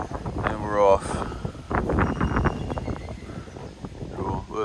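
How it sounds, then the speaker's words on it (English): Strong wind buffets the microphone on a shallow lake during a kayak fishing trip, a steady rough roar filling the whole clip under someone talking. "The wind, it's just super windy today."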